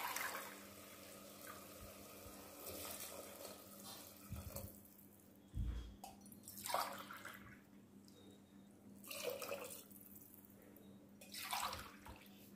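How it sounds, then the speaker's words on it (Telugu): Water poured into a pot of vegetables for corn soup, quiet running and splashing in several short bursts separated by pauses, faint in a still room. "ఇప్పుడు మనం ఒక 4 గ్లాసులు వాటర్ వేసుకోవాలండి వీటిలో దీంట్లో"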